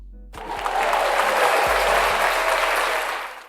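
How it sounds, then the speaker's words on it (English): Recorded applause plays as a sound effect: a crowd claps in a dense, steady wash that swells in and holds for about three seconds before tapering, with no voices over it. "hopefully that applause came through"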